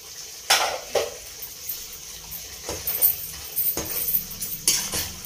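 Tomatoes go into a hot pan of mutton biryani, with clanks of a metal spoon against the pan, stirring and a soft sizzle underneath.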